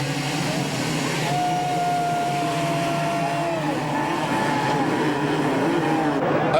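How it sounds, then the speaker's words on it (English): Motocross bikes revving at the starting gate at the 1995 High Point race in the rain, forming a steady loud wash of engine drone with a rising whine over it, heard at a distance. "They rev the engines, waiting for the gates to drop for Moto number 1 to be underway"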